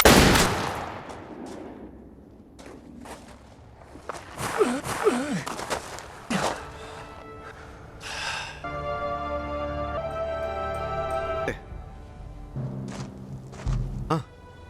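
Gunfire in a John Wick film scene, sharp loud shots and thuds scattered among tonal score and effects, with a burst of rapid fire and shouting voices between the blasts.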